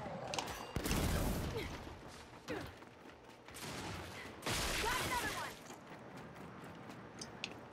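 Bursts of rapid gunfire in the video game Gears 5 on Xbox, loud volleys separated by quieter stretches with mechanical clatter in between.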